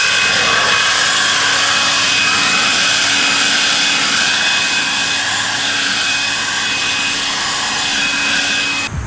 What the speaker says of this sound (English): we're going to get started leaf blowing with the Toro 60V Max, which I have right here in front of me